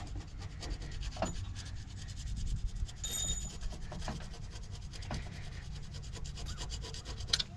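A gasket scraper rubs steadily over an engine surface, lifting old gasket material and paint in continuous close, gritty strokes with a few sharper scratches.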